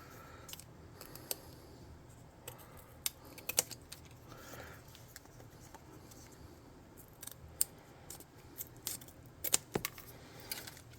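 Scissors snip through material while building a tabletop-game skysail prop, giving a scattered run of sharp, close clicks over a quiet background, several cuts clustered near the end.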